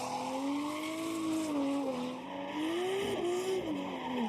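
A drift car running a gymkhana course at Formula Drift Japan qualifying at Okuibuki Motorpark, sustained screeching tire squeal rising and falling over a continuous engine drone, fairly loud throughout.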